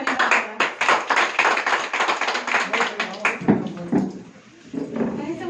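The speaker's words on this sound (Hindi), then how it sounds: "जोरदार तालियों से उनका स्वागत करें।" An audience at a company customer meeting breaks into dense, lively applause that rolls on for a few seconds before thinning out as voices begin talking.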